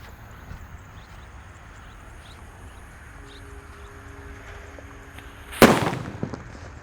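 A yellow jumbo Power Extender firework goes off outdoors: after a quiet hiss, a single sharp loud bang bursts out and trails into a crackling decay.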